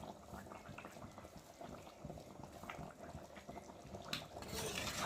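Egg curry with lentil dumplings bubbling in a pot, a faint, continuous simmer of small pops and gurgles that swells slightly toward the end.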